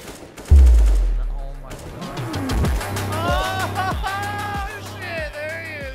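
AK rifle fire in a competitive shooter game, a loud close burst opening the clip and then rapid automatic shots cracking in quick rhythm, with a voice talking over the gunfire.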